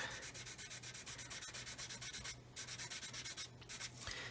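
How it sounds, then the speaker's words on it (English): Rhythmic back-and-forth sanding strokes rub over masking tape on the plastic fuselage of a 1/144 scale C-141B Starlifter model, close and quiet, with a couple of short pauses between bursts. "Now the beauty of having this masking tape on here is I can sand over the masking tape."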